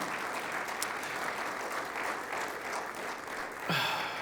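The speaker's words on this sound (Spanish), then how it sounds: "dale un fuerte aplauso a Él." A church congregation gives a sustained, steady round of applause during a sermon, a dense wash of clapping from many hands at moderate distance, ending as a voice begins.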